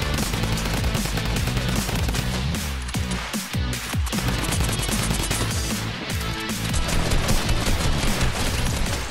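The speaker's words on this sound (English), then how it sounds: "Bro, why is this bot shooting at me?" Dense bursts of rapid gunfire in a video game battle, loud and continuous with overlapping shots and impacts filling the whole stretch, no talk over it.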